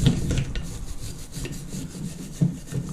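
A steel wire brush scrubs car brake parts on an Alfa, a steady, gritty rasping in quick back-and-forth strokes, close and fairly loud, with no talking.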